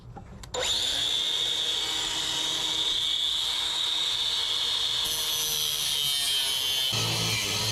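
A power tool cuts away spot-welded metal mounts under a Honda CRX, a steady loud whine running continuously after a brief quiet start, with a shift in tone near the end.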